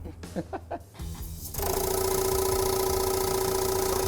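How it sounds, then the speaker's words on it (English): Paint shaker machine in a body shop, starting up after a few short knocks and then shaking paint with a loud, steady, buzzing drone that runs to the end. "now that we got this paint all secured in this machine, we're gonna pull the Andre 3000 on this baby and shake it"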